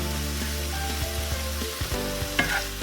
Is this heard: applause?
no